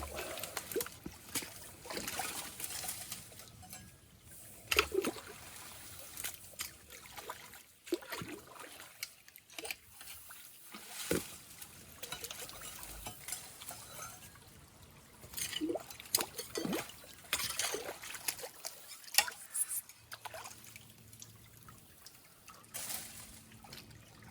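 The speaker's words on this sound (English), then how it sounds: "Now the babbling brook is coming over the concrete." Stream water flows and trickles over concrete in a freshly cleared county ditch at a lake outlet, a steady close babble with irregular splashes throughout.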